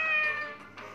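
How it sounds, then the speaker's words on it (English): A cute cat meows once, brightly and clearly, inside the mobile puzzle game Save the Girl, a short close sound heard alone. "Oh, so cute little kitty."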